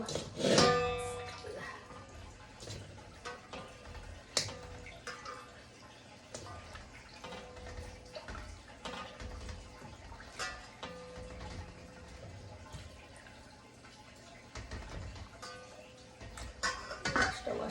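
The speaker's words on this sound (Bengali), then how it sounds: "এই যে এটা ধুয়ে নিচ্ছি এখন ওইটা ধুয়ে নিব" Hilsa fish being washed by hand in a kitchen, with splashing and trickling water, scattered drips and occasional clinks of a pot or bowl, fairly quiet and close.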